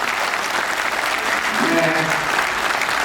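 Listeners at a Hindi kavi sammelan poetry gathering clap loudly and continuously, a dense wash of applause with a voice briefly audible beneath it.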